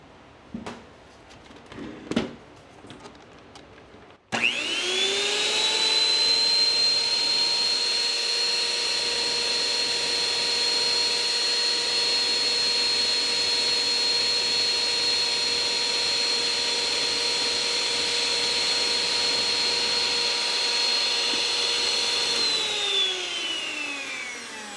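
An electric hand mixer beats butter for keto strawberry shortcakes, spinning up sharply and holding a steady, close whirring whine for about twenty seconds before winding down, heard alone.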